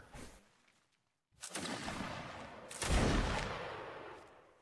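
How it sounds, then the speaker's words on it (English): Gunfire in a multiplayer video game battle: a dense burst of shots begins after a short silence and swells into sustained, heavy firing close by, with no talk over it. "Continue to fire at will."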